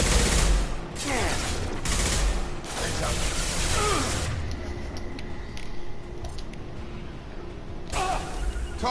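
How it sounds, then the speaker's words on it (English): Gunfire from an impact shot in Mass Effect 2 Legendary Edition, a few sharp bursts early on amid game combat noise and squad voices, followed by quieter ambience. "Firing an impact shot!"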